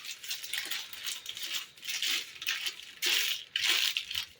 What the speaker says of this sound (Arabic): هون راح نلفها بالورقة بهالشكل